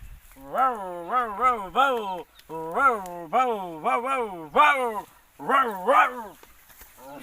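A person imitates a barking dog with a series of voiced woof-like barks in short bursts, clearly close and loud, alone without other talk.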